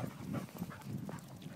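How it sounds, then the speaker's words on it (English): Dogs romp and play outdoors on a rainy evening, with soft yips and excited vocal bursts over steady low background noise, fairly close and moderately loud throughout. "Crazy dogs."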